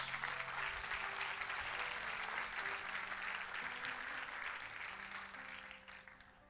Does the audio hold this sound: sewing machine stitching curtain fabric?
no